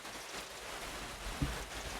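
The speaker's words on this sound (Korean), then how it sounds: "근데 지금부터 비가 오기 시작해요" Rain begins falling at an auto campground during a stormy family camping trip, a steady hiss of drops with one soft thump near the tent.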